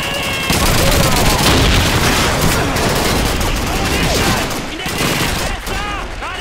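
Dense, continuous machine-gun fire from an MG-42 in Call of Duty 2's Stalingrad 1942 battle, Germans against Soviets, a loud sustained barrage of rapid bursts with explosions and shouting voices mixed in throughout.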